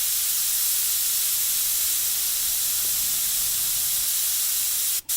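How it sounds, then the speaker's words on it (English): An airbrush is sprayed wide open to flush its tip, giving a loud, steady, close hiss that runs unbroken and stops abruptly at the end. "what I like to do is flush it by spraying it wide open off of what I'm working on"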